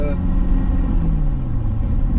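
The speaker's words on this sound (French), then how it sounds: "je passe mes vitesses à 2500 tours et l'échappement est déjà là" A car with a lightly modified exhaust revs to about 2500 rpm while shifting gears, giving a deep, rumbling engine note that stays loud and close throughout.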